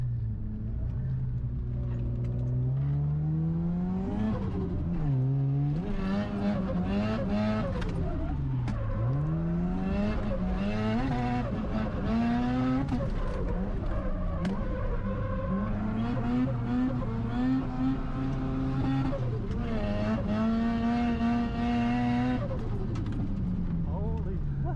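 A Mazda FD3S RX-7 drifts around Tokushima Kart Land, its rotary engine repeatedly revving up and dropping back in rising and falling sweeps, loud and raw from onboard, with the note climbing as speed builds.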